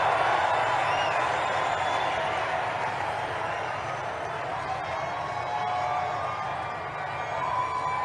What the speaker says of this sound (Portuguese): o mais aplaudido dos filhos, muito altos os aplausos